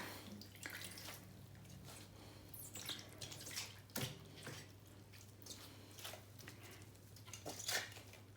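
Wild garlic being washed in water, with soft splashing, squelching handling and occasional drips in steady close bursts, over a low constant hum.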